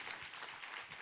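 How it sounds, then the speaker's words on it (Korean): Congregation applauding during a Korean Sunday church worship service, a steady wash of many hands clapping that holds evenly through the whole short stretch at moderate volume. "우리 하나님께 감사와 영광의 박수 올려드리겠습니다"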